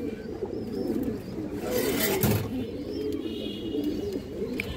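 Pigeons coo in low, repeated throaty phrases close by, with a brief rustling burst partway through and faint chirps scattered over the cooing.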